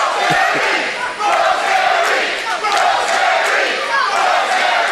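Wrestling arena crowd roaring and cheering in support of a wrestler, a dense sustained wall of voices with chanting swells, loud and continuous throughout.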